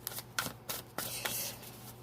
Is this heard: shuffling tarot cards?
yes